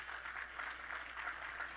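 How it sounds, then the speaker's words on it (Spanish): Worshippers in a church applauding for the Lord, a steady, hissing mass of handclaps rising and falling slightly in waves, heard from a little distance over a low electrical hum. "Dale un aplauso al Señor si de verdad le amas."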